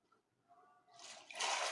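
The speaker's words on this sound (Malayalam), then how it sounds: "ഞാൻ വെള്ളത്തിൽ പോയി" Splashing into water in a Minecraft hardcore survival game, a short burst of watery rushing noise that swells loud near the end after quieter game sounds.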